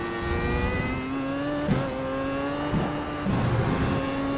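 A race car engine in a video game, played on a motion simulator, drones at steady high revs, pitch climbing and dipping with brief shifts, loud and continuous with no talking.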